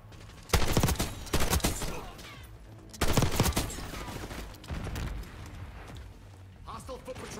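A PU-21 rifle fires in Black Ops 6 in loud, close bursts with heavy echoing blasts and rumbling tails, repeated over several seconds.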